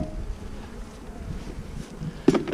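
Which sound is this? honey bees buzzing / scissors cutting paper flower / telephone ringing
honey bees buzzing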